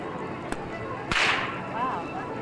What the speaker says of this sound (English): And it makes its noise by breaking the sound barrier over 750 miles an hour at the tip of the whip.